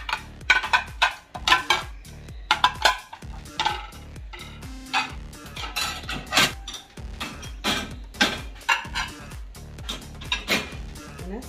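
Plates and cups are set into a dishwasher rack, giving irregular ceramic clinks, clatters and sliding knocks close by, arriving in short bursts with brief pauses between.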